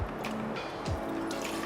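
Kōloa coconut rum poured into a cocktail, a short close trickle and splash of liquid lasting under two seconds, with no talking.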